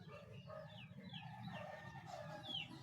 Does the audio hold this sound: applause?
no